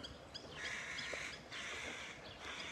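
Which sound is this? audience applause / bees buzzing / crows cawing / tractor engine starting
crows cawing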